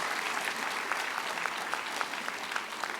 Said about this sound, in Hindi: ताली बजानी है तो जोर से ताली बजाइए।